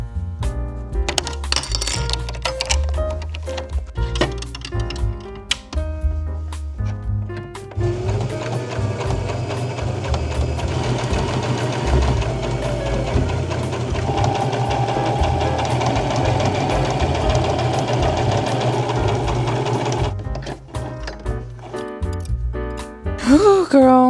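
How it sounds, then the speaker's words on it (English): Sewing machine hemming a shirt with white thread, running in a steady whirring buzz for a long stretch in the middle, with clinks and handling noises before and after. "put in white thread, hem the Snoopy shirt"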